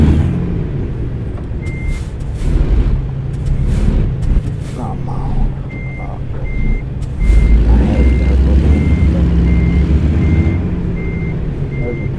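In American Truck Simulator, a truck backs up with a steady, evenly spaced reversing beep over a low engine rumble and air-brake hiss, while someone talks over the game sound.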